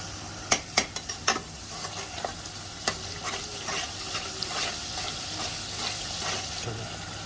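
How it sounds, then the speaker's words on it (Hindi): Masala with added garam masala powder fries in a pan, opening with a few sharp clacks of a spoon against the pan and then a steady close sizzle with occasional stirring knocks. "तो आपने ये डालना है इसमें मसाला भूनते हुए।"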